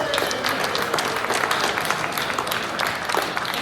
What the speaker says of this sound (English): you should just give yourselves a round of applause for being civically engaged